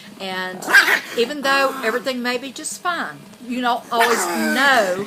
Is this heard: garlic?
no